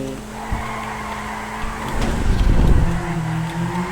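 A car engine revs while tires skid and squeal in GTA V, the engine tone sliding up and down with a burst of screeching in the middle.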